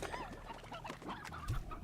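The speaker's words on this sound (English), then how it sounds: "Ooh, so many chickens and roosters." Chickens and roosters in the video game Slime Rancher make a busy cluster of soft, overlapping clucks and chirps, fairly quiet and steady, with a brief low thump near the end.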